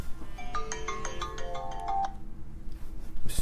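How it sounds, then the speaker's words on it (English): A mobile phone rings nearby with a bright melodic ringtone of quick repeated notes that plays for about two seconds and then stops, with a faint rustle after it and no talk. "my phone is ringing"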